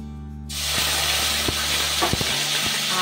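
Whole cardamom, cloves and cinnamon sticks hit hot oil and burst into a steady, loud sizzle that holds throughout, with a few sharp pops and spoon clinks over the hiss, and no voice.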